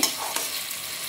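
Vegetable fried rice is stirred in a hot pan, giving a short scrape and rustle over a soft sizzle, close and brief.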